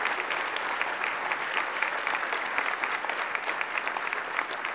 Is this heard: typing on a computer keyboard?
no